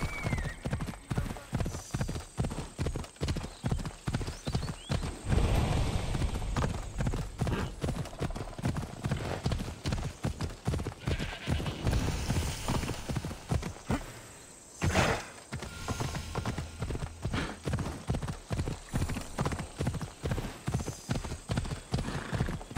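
A horse's hooves clip-clop in a steady rapid rhythm in the video game Assassin's Creed Odyssey, with an occasional whinny, under dialogue and game sound.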